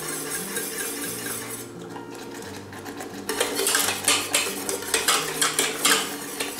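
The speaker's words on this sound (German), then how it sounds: "Das wird dann einmal kurz glatt gerührt." A spoon stirs a spiced cherry mixture in a pot until smooth, scraping and clinking softly at first, then a rhythmic series of louder metallic strokes against the pot, close and without talk.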